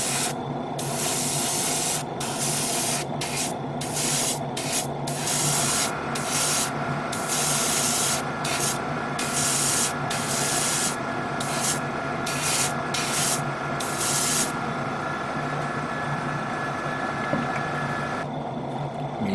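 Steady hiss of spray paint laying a light coat onto a 1/100 MG Zeta Gundam Ver Ka model kit, in several short bursts and then one long continuous spray, close and loud.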